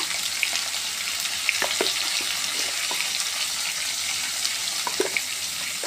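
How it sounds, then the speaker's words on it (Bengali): Potato pieces frying in hot oil with turmeric, a steady broadband sizzle with scattered pops and crackles throughout, fairly close and alone with no voices. "আমি এবার আলুগুলোকে ভেজে নেবো ভালো করে এই আলুগুলো ওপর থেকে আমি একটু হলুদ দিয়ে দেবো"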